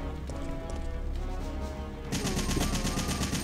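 Machine gun in Resident Evil 3 firing a fast rattling burst that starts suddenly partway through and is loud and close over the game's background sound.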